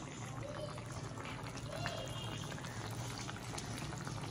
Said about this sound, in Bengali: পাশে মাছটাও ফুটছে